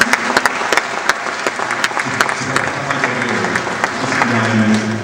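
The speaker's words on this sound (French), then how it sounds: "on peut l'applaudir" An audience applauds a young cyclist at a cycling team presentation, steady crowd clapping with sharp individual claps standing out, voices murmuring underneath throughout.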